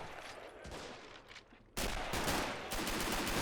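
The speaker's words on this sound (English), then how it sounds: "Guns are starting to take fire now." Artillery gun crews come under fire during a Rhine River amphibious assault in a war game running the RobZ Realism Mod: dense, rolling gunfire that suddenly jumps louder midway and continues as a steady, crackling barrage.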